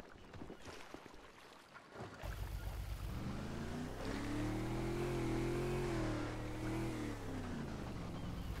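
Boat engine in the GTA 5 video game: after a brief rumbling start, a steady droning motor hum rises and holds, with slight pitch shifts as it runs, close and continuous with no talk.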